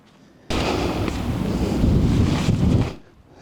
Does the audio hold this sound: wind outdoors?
yes